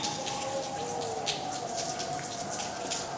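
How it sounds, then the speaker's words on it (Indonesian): An afternoon rain shower patters steadily with soft, scattered drop hits over an even wash of falling water, with a faint tonal hum underneath and no voices. "Awan masih menggumpal dan kemudian menurunkan hujan di sore ini"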